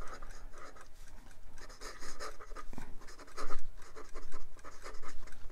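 A flexible 1920s Sheaffer gold-nib fountain pen in black hard rubber writes on paper with normal pressure, giving soft, close scratchy strokes in short bursts with brief pauses between them.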